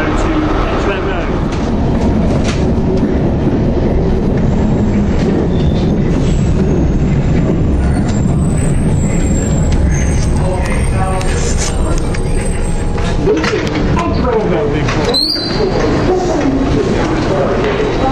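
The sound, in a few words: London Underground train at platform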